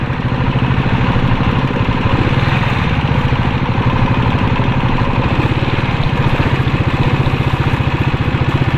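A hand tractor's engine runs steadily close by, a loud rhythmic chugging throb that holds even and unbroken with no voices.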